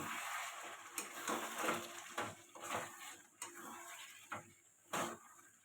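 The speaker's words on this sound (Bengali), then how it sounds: "চিকেনটা একটু নেড়ে দেবো।" Chicken being stirred in a pan, with a handful of scattered metallic scrapes and clinks of a spatula against the pan over a soft background hiss.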